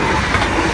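An Arriva passenger train passes close by from the left, a loud continuous rumble and rolling wheel noise filling the short moment.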